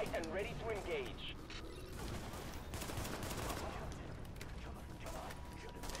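Pistol gunfire from Tom Clancy's The Division, a steady stream of crackling shots and impacts amid busy combat noise, with brief voice-like sounds mixed into the fray.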